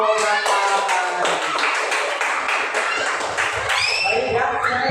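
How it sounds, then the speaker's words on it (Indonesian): A classroom of students applauds a student group with rapid, dense clapping for several seconds while voices chatter underneath. "tepuk tangan untuk kelompok matahari."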